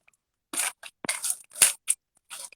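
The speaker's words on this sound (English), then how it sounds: "I'm going to use my scissors over here" Scissors cut open a package in several short, crisp snips and scrapes, close and clear, with quiet gaps between them and no talking.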